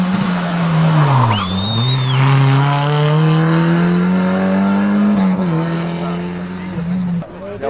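Rally car on a stage of the Rallye Costa Brava near Espinelves roars past close by, engine note rising and falling through gear changes with tire squeal, loud and sustained over several seconds.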